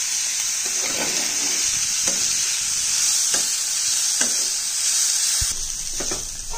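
Garlic fries with onion in a pan for a dried-fish bhuna, giving a loud, constant sizzle with a bright hiss and soft scraping strokes of stirring at irregular intervals, heard close up.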